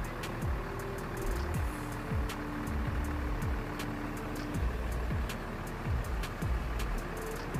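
A large bus engine rumbles and revs as a PMH night bus pulls away from Dumai toward Pematang Siantar, steady and fairly close, with repeated low gear swells and no voices.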